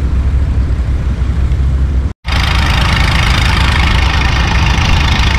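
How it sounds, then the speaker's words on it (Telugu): A heavy motor pumps water through a pipeline at a construction site, a loud continuous low engine drone with a brief cut partway, no voices. "భారీ మోటార్ సహాయంతో వాటర్ని అయితే పంపింగ్ జరుగుతుంది"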